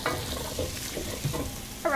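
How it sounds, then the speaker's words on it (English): Tomato paste being stirred into a frying pot for Irish beef stew, a low sizzle under repeated spoon scrapes and a brief metallic ring near the end, close and fairly quiet. "So we'll stir in tomato paste."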